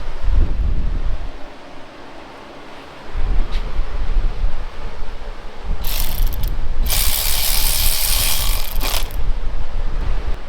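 Ratchet working bolts on a Ford 302 V8 engine being assembled for a Fairlane, heard as close mechanical clicking and rasping that comes in bursts, loudest over the second half.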